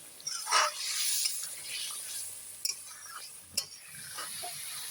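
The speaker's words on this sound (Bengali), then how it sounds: "এখানে চিকেন কষানো হচ্ছে" Chicken braising with spices in a pan over a wood fire, a soft sizzle with occasional stirring scrapes and clinks, fairly quiet and close, no speech.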